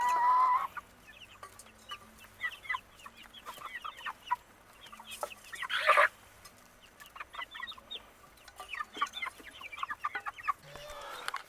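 Young chickens, just moved onto fresh grass in a yard, cluck and peep softly and intermittently. Their short bursts come from close by with quiet gaps between them and no talk.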